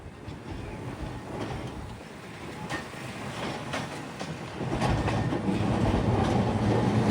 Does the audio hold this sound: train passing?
yes